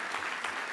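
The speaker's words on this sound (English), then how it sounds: "I think we should just give everyone a round of applause" A crowd at a startup pitch event in Johannesburg applauds, a short burst of dense, fairly faint clapping heard from the room with no talking.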